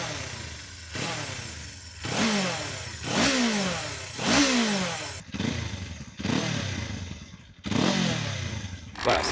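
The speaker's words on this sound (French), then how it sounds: "C'est un moteur qui n'a pas une très très belle sonorité, même si l'échappement à Krapovic améliore grandement les choses." A Kawasaki KLE 500 twin-cylinder motorcycle fitted with an Akrapovic exhaust, revved repeatedly in loud, close bursts that rise and fall about every second or two.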